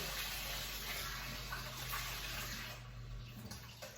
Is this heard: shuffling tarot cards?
no